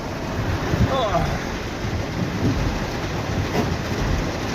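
Heavy rain pours in a dense, steady hiss, with faint voices now and then underneath.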